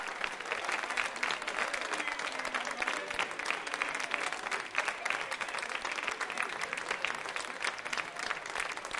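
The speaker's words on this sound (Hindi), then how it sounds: "तो एक बार तालियां जोरों से अपने लिए बजाइए आप सभी लोग।" An audience at a Diwali-themed quiz show claps in a dense, sustained round of applause lasting the whole stretch, even in level, with a faint crowd murmur underneath.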